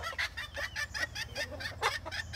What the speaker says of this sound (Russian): Здесь у нас курочки.